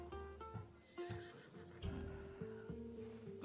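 A horse in Assassin's Creed Odyssey neighs several times in quick succession, with loud, close whinnies and no talk.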